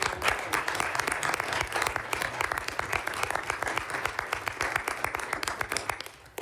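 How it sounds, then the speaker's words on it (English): An audience at a university board committee meeting gives a round of applause: dense, steady clapping from many hands that lasts about six seconds and then stops abruptly. "if I could just have a round of applause"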